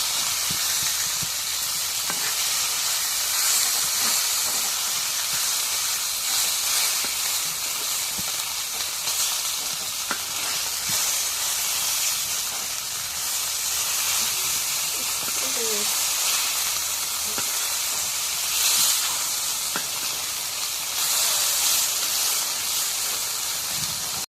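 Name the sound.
fresh pond fish frying in a pan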